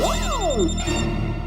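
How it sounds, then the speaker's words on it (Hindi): A short electronic ringtone plays loudly, with a sweeping rising and falling tone over a steady musical background. "भिड़े भाई ये मेरा फोन है।"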